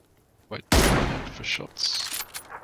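A loud burst of gunfire erupts in a video game, followed by a few fainter shots and brief voice sounds.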